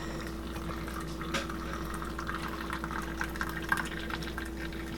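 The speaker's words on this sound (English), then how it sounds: "So I'm gonna just add some hot water." Hot water pours steadily into a small 12-ounce mug for a hot cocoa drink, a soft continuous trickle and fill heard close up with no talking over it.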